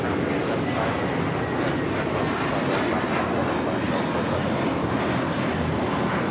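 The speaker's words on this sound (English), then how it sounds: "This is American Airlines Flight 32 taking off to JFK on the A321" An American Airlines Airbus A321 takes off at Los Angeles airport, a steady, broad jet engine roar that holds level throughout, moderately loud and unbroken by other sounds.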